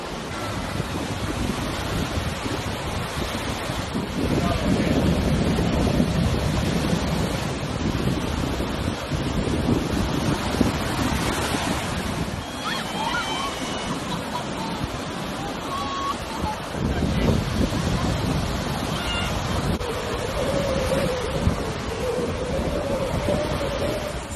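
Ocean surf rolls and washes continuously on the shore at Flagler Beach, Florida, mixed with steady wind buffeting the microphone, loud and close, with faint voices now and then underneath.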